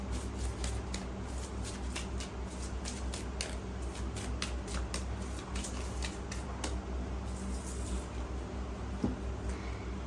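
Cards are handled and slid from a deck, producing light, quick papery clicks and flicks in an irregular run over a faint steady background hiss.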